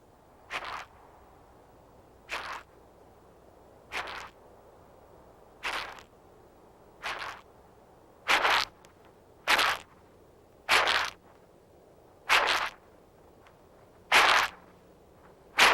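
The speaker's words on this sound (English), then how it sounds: "When alarmed, the huge insect makes such a loud, rasping noise" A large flightless grasshopper's alarm call: a series of harsh, raspy bursts repeats roughly every second or so, each a short scratchy buzz, growing slightly louder toward the end, with no talking.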